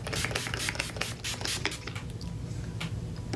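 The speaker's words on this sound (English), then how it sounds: "prime the face with just this Mario Badescu facial spray, the rose water" A steady hiss of a Mario Badescu rose water facial mist spray, broken into several short bursts with light rubbing and handling noise around it.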